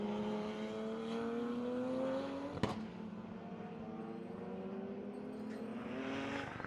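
BMW race cars on track, engine tones rising steadily as a car accelerates, with a sharp brief crack near the middle and another engine building toward the end, moderately distant.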